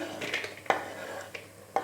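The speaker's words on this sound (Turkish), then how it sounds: "Şimdi ufak ufak doğradığım pırasaları kaseme alıyorum" Soft clatter and a few light taps of chopped leeks tipped into a bowl, with brief clinks spaced across under two seconds, fairly quiet.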